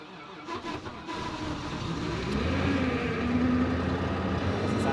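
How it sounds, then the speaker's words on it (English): Pickup truck engine starting at forty below: a few cranking bursts, then the motor catches and settles into a rough, rising idle, close and steady. "We're gonna see if the truck will start."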